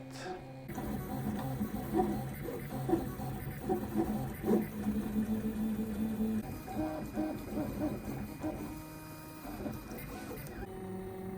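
A Prusa i3 MK2 3D printer runs a print job, its stepper motors whirring and chirping in quick shifting tones over a low background hum, close and fairly quiet.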